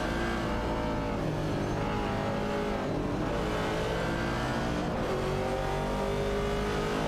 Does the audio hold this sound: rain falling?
no